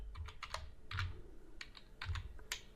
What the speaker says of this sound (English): So you type in touch